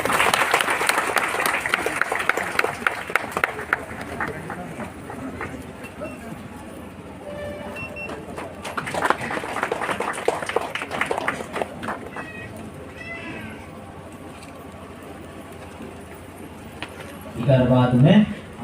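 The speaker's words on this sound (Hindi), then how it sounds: "शुभ मन ताली दो।" A crowd at a parish jubilee celebration claps in scattered bursts. A voice talks over the clapping, and the applause rises and fades several times across the scene.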